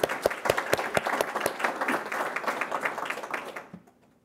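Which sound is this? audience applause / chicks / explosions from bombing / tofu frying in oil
audience applause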